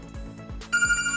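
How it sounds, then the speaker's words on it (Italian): A mobile phone rings nearby with an incoming call from a portable GSM alarm: a beeping electronic ringtone starts partway through over a low repeating background pulse. "allarme mi sta richiamando"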